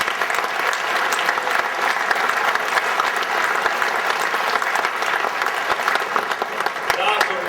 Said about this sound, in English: So would you give the BCA staff a round of applause real quickly?